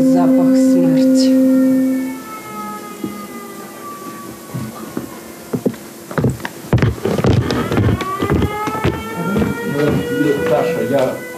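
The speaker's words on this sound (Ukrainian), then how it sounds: "Повітряна тривога." An air raid siren sounds during a wartime stage performance, a loud sustained tone that fades after about two seconds, followed by shuffling, knocks and movement from the stage and audience.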